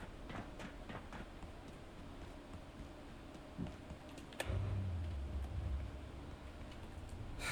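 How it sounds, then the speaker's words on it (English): A tram pulls in within the video game Abiotic Factor, a low rumbling mechanical arrival rising suddenly midway over faint ambient hum, with small ticks and clicks scattered through the background. "Summon the tram."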